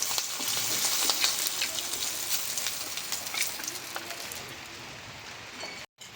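Fish, a Bengali bata fish, crackles and sizzles steadily in hot oil in a pan, a dense, close frying hiss with scattered pops that continues throughout before cutting off abruptly near the end.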